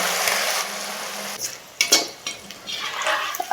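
Chicken pieces for chicken pickle fry in hot oil with a steady, dense sizzle, then a spoon scrapes and clinks against the pan as pieces are stirred and lifted.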